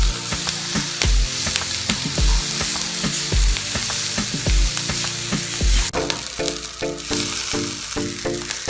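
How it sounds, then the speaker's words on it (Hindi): Vegetables stir-fried in a pan over a high flame give a loud continuous sizzle, with rhythmic spatula scrapes and tosses repeating about once a second. The frying sound changes character near the end. There is no talking. "हाई फ्लेम पे मैंने सब्जियों को स्टिर फ्राई कर लिया है।"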